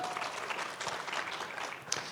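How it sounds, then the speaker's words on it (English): Modest applause from a conference audience welcoming startup competition winners, a fairly quiet spread of clapping heard at some distance without much else. "little applause would be great"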